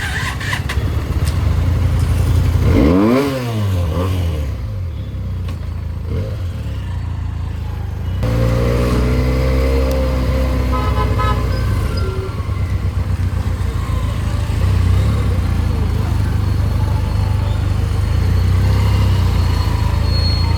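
A Benelli 300 motorcycle with a drained battery cranks over, catches and starts, then its engine idles and revs steadily and close by for the rest of the time, with no talk.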